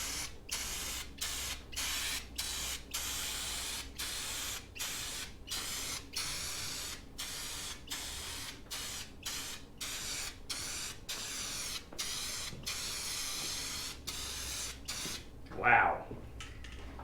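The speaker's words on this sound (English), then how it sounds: "There's a whole lot of paint at one time, and the spray pattern is not the best on this." Repeated short bursts of spray paint hissing onto a church sign in an even rhythm, separated by brief pauses, with a small knock near the end.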